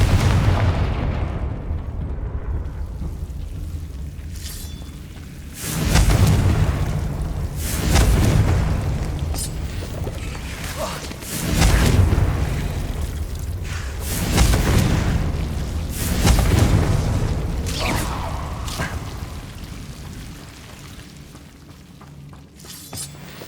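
Confringo fire spells burst in a wizarding video game, a series of about five loud, booming explosions spaced several seconds apart, each with a crackling, shattering tail.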